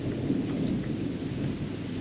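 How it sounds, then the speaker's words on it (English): Thunder rolls low and heavy over a steady wash of falling rain heard from a screened-in porch, a continuous rumble with no voices. "wow, listen to that thunder"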